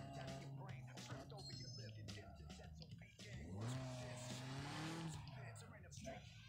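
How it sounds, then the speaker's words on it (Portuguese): Race car engine in the GameCube version of Need for Speed Most Wanted, a steady sustained roar that dips briefly then surges again with rising pitch, with tire squeal mixed in and someone talking over it. "Nossa, olha esse motor, cara."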